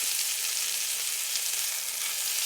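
Beef tenderloin steaks searing in a hot pan give off a steady, even hiss and crackle of sizzling fat, moderately quiet and close, with no voices.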